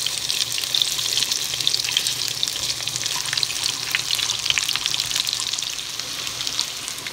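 Food frying in a pan, a dense continuous sizzle with crackling spatters, close and loud and steady throughout, with no voices.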